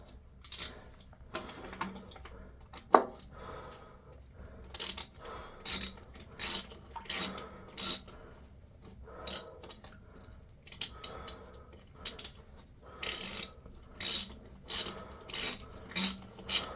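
A hand ratchet tightening water line fittings on a sheep watering setup, giving quick bursts of close, crisp clicking in an irregular stop-start rhythm, with no talking.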